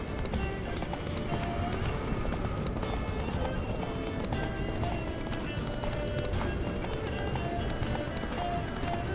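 Geralt's horse Roach galloping in The Witcher 3, a steady rhythmic clip-clop of hooves running on and on under dense game music and ambience, with a voice talking over parts of it.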